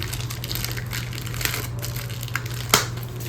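Plastic wrapping on a Coach outlet package crinkles and crushes under the hands in short close bursts, ending with one sharper snap.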